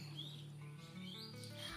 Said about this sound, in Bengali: তোমরা ভিডিওর মধ্যে যে পাখির ডাকগুলো বা কিচিরমিচির আওয়াজটা শুনতে পাচ্ছ